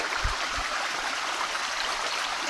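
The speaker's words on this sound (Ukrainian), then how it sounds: "Річка називається Чупилки. Нова річка." Steady rushing flow of floodwater from a newly formed stream during flooding in Kaniv, a broad continuous wash with a couple of low thumps near the start and no talking.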